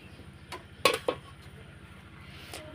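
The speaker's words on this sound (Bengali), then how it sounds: "আমি এখন 30 মিনিট পর আবার এখন ঢাকনাটা উঠে দিলাম" A lid is lifted off a pot of semolina snack after thirty minutes of steaming, giving two sharp metallic clanks close together, then quiet kitchen background.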